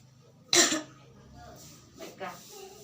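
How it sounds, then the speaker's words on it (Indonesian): A single sharp, loud cough during chest physiotherapy, followed by softer breathy sounds and a faint throat noise, close to the listener. "tarik nafasnya, kemudian batukan, baru keluarkan sekretnya"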